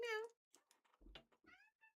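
A voice imitates a cat's meow once at the start, followed by brief soft speech and a few quieter sounds.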